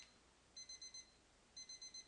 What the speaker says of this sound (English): Oh, that was my alarm.